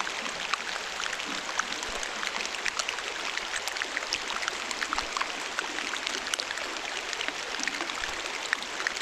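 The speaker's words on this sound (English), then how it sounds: "So this is what it really sounds like under the water in the fjord with all the ice." Underwater sound in a glacial fjord full of ice: a dense, continuous crackle of tiny pops and fizzing clicks as air bubbles escape melting glacier ice, steady and fairly faint with no voices.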